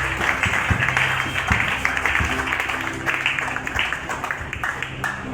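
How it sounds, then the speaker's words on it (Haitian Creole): Church congregation applauding steadily throughout, a dense wash of clapping with some background voices and low music tones underneath, moderately loud and continuous. "Sous applaudissement, s'il vous plaît"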